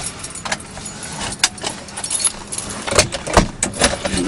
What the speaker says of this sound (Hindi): अभी ये देखो मैं स्टार्ट कर रहा हूँ गाड़ी, ये गाड़ी स्टार्ट कर रहा हूँ